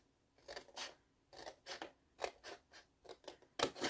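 Cardboard is cut for a scrapbooking faux-book storage box in a close series of about a dozen short, crisp rasping strokes in an irregular rhythm, with quiet pauses between them.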